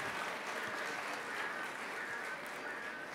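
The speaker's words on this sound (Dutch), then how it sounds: "Fantastisch applaus voor de varehond." Sustained applause from the crowd at the Dog of the Year Show 2013 breed group 5 final, a steady dense clapping wash held at even loudness for the whole stretch with no voices on top.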